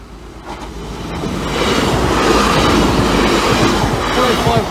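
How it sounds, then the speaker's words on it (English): A heavy freight train rumbles past close by at Appleby level crossing, building to a loud, steady roar of rolling wagons with rhythmic wheel clatter. "Got two freight trains shortly"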